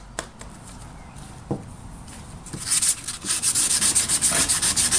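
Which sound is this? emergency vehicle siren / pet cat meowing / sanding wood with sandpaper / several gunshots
sanding wood with sandpaper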